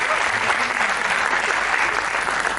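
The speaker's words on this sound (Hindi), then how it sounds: "तालियां के लिए वापस एक बार" An audience at a motivational talk for homoeopaths applauds, a dense, steady wash of clapping that stays loud and even for the whole stretch.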